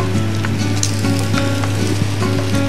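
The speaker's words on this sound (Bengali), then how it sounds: "মশলাগুলো এইভাবে একটু মিশিয়ে দিয়ে মিনিট 5 এটা ভাজতে হবে।" Garlic, ginger and cumin paste sizzling steadily in a hot pan for homemade ilish pulao, a dense continuous crackle with occasional louder pops, close and loud with no talking.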